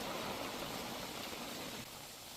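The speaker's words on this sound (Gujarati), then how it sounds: "સારો એવો વરસાદ વરસી રહ્યો છે" Steady rain falling in a district town in Gujarat, amid wind, forms a constant dense hiss throughout, slightly quieter near the end, with no voices.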